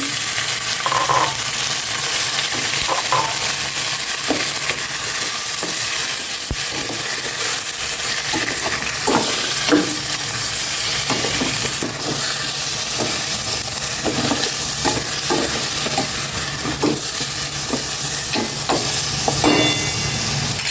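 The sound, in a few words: pork frying in a pan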